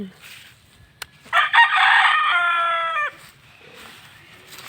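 A single long, loud rooster crow rings out close by, with quieter farmyard fowl clucking in the background before and after.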